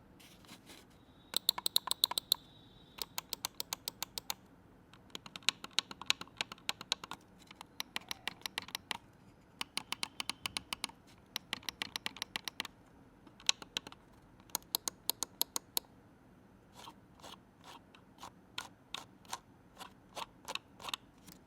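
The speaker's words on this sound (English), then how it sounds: "The clicks are satisfying, and I'll play the actual click sound so you can judge yourself." Bursts of sharp, crisp clicks from an AmazonBasics wireless gaming mouse with six buttons, pressed in quick rhythmic runs of several clicks with short pauses between, close and clear with no talking.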